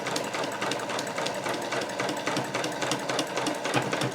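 A sewing machine runs steadily, stitching a straight seam on a tucked fabric pouch with a fast, even mechanical rhythm, close and continuous with no talking.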